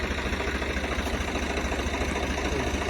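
A tractor engine runs steadily at close range, a constant mid-pitched chugging rumble with no voices.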